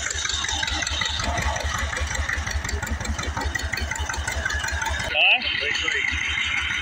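Antique tractor engine at a tractor show in Goldendale, Washington, belt-started from a John Deere AR, chugging steadily and loud for about five seconds before a sudden break and a brief tonal whine, then the running continues.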